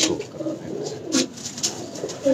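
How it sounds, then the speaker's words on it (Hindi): Soft pigeon cooing repeats in low, throaty bursts, fairly close, with a few brief higher chirps in the background. "ये जी बिग शो कबूतर है अरमुगान भाई का, बहुत पुराना कबूतर है इनका।"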